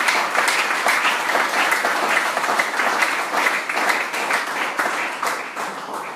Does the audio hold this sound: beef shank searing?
no